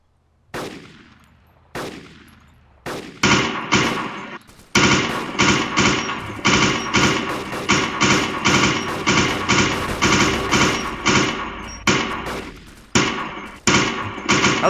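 Gunfire from the DayZ Origins mod: a few spaced single shots, then sustained loud, rapid automatic bursts with brief pauses, close and dominant, with an engine-like hum underneath.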